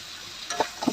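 Spiced garam masala mixture frying in a pan is stirred, giving a soft steady sizzle with two brief scraping strokes near the end, close and fairly quiet.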